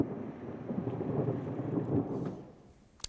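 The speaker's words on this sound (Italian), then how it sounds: "sono tornati i tuoni a scandire questo incerto scorcio di fine agosto" Thunder rumbles low and heavy during a late-August storm, a long rolling growl that swells and then fades out, followed by a brief sharp knock at the end.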